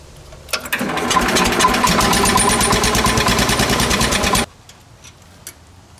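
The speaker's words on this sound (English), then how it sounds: "start up the motor, and let it run for 10 minutes" A Kohler 14HP engine on a Case 644 garden tractor runs close and loud with a rapid, even chugging idle for several seconds, then cuts off abruptly, leaving near silence with a few faint clicks.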